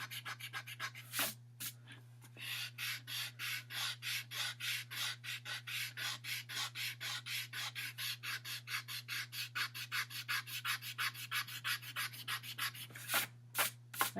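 A good eraser rubs pencil guidelines off paper in quick, steady back-and-forth strokes, a close rhythmic scrubbing that runs almost continuously with a couple of brief pauses.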